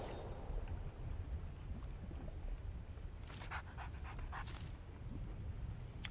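Puppy panting close by in quick, continuous breathy bursts, with a few brief higher scratchy sounds partway through and no talking.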